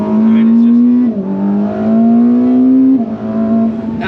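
A Ferrari SF90 hybrid accelerating as its electric motor kicks in, a loud, steady engine drone that climbs in pitch, dips at each gear change and climbs again, with talk inside the car.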